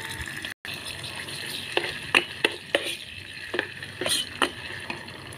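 Chili and garlic sizzle in oil in a multi-function pot, a steady frying hiss close by, broken by a brief dropout and several sharp clinks of a utensil stirring against the pan.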